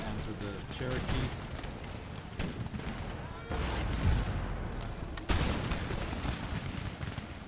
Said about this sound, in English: Consistently offering some withering fire onto the Cherokee.